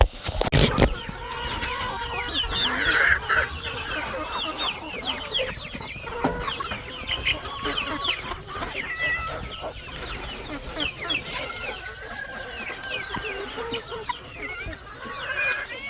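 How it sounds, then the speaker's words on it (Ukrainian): Five backyard hens cluck and chatter continuously while they are fed homemade wheat mixed with herbs. The calls are close and lively, with overlapping clucks throughout. "5 курочок"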